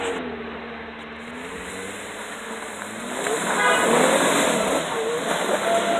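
A stock 2019 Jeep Wrangler JL climbs a hill at an off-road Jeep festival in Jasper, Georgia, its engine a steady rumble that grows louder midway through the climb, with no talk over it.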